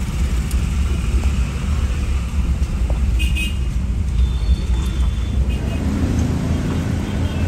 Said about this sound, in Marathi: महामार्गावरील वाहतूक कोंडीचे चित्र अद्यापही कमी झालेले नाही